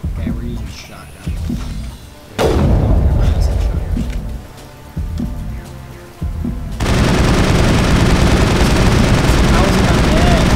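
Shotgun gunfire in the video game Mass Effect booms in several loud, abrupt blasts, some followed by longer stretches of heavy sustained firing, with a voice talking in between.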